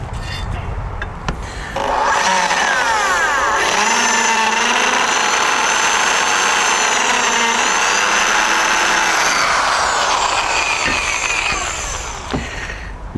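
A cheap power tool grinding through 16 gauge metal: after a brief start, a loud, sustained harsh whine with wavering pitch runs for about eight seconds, then winds down with a few clanks.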